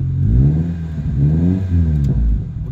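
A 1993 Mazda 323 Interplay engine revving up close, loud rising and falling revs in two or three pulls over a rough idle rumble.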